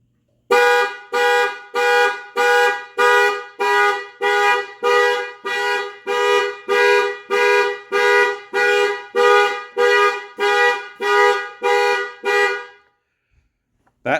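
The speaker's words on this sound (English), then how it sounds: "That flashes your parking lights, honks the horn, and flashes the dome light." A Ford Bronco horn honks over and over in panic mode, triggered from a keyless entry remote. The evenly spaced blasts are loud and close, about eighteen of them in steady rhythm over twelve seconds, and then the horn stops.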